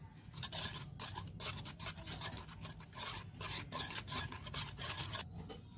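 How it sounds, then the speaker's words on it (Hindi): Chicken pieces being mixed by hand with turmeric, garam masala, black pepper powder and salt, giving a steady wet rubbing and scraping that continues closely throughout with no talking. "ये सारी चीज़ को अब हम मिक्स करेंगे।"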